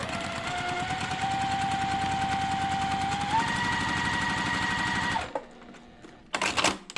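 A sewing machine stitches quilt fabric along the edge of the presser foot in a fast, steady close-up whir with a rising motor tone for about five seconds, then stops, followed by brief handling clicks.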